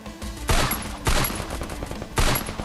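Three heavy, booming M500 sniper shots from the Free Fire mobile battle royale game, each a loud close blast followed by a brief reverberating tail, spaced roughly a second apart with no talk.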